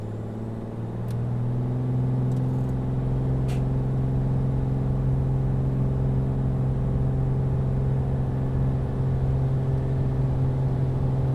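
Commander 114 single-engine aircraft in a flight simulator, engine pushed to full power for the takeoff roll, a loud steady droning hum that swells after the first second and holds, with faint clicks early on.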